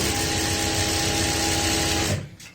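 Sewing machine stitching the seam of an apple-cut kurti, a loud steady mechanical whir with rapid needle rhythm running continuously, then stopping abruptly near the end as the stitching finishes.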